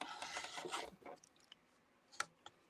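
Quilt fabric is cut on the diagonal for quarter-square triangles, a short, close rasping stroke that fades into a few faint ticks and taps in a quiet room.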